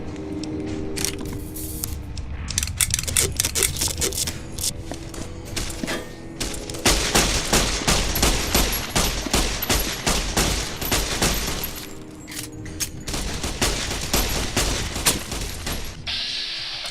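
Rapid gunfire in the video game Fallout: New Vegas, dense bursts of loud sharp shots firing almost continuously, with brief pauses between volleys.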